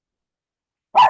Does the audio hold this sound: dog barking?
yes